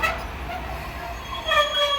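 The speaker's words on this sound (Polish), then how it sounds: "tutaj już możecie zauważyć tą lokomotywę odjeżdża 544 z odsyłem Intercity Pobrzeże" A locomotive departs hauling an Intercity Pobrzeże passenger train, giving a steady low rail rumble overlaid with thin metallic squealing tones that swell toward the end, moderately loud and without talk.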